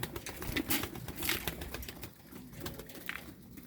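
Soft, low cooing from pigeons at a feeding spot, amid faint rustling and scattered flutters, quiet and close with no one talking.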